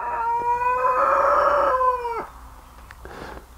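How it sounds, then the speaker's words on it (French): Young rooster whose voice has not yet broken crows once: a loud, close, strained call held for about two seconds and ending in a cracked drop, followed by a few short, softer clucks. "Alors j'ai mon coq, il a pas encore mué, il a encore sa voix d'ado là."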